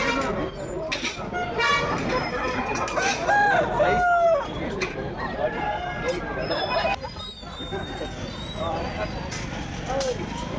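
Roosters crow repeatedly at a night chicken market, loud and close, with clucking fowl, a vehicle horn and busy voices talking throughout.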